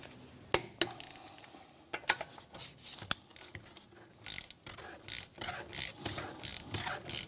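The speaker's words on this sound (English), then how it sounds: "we're going to run around these lug nuts in a star pattern to lock the wheel on" Lug nuts on a 2007-2013 Mitsubishi Outlander are tightened with a torque wrench and 17mm socket, giving close, repeated ratcheting clicks in short runs with a few sharper snaps, no talking.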